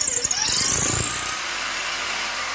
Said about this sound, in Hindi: अब हम इसे चलाएंगे तो रिवर्स में चलेगी और खुद बाहर निकल जाएगी